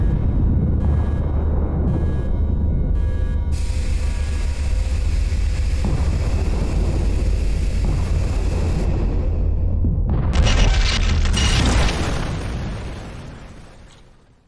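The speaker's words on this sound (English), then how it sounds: "All heroes survived the explosion." An animated explosion rumbles as a heavy, sustained low boom beneath a mix of crackling bursts, swelling into a bright blast near the end before the roar fades away.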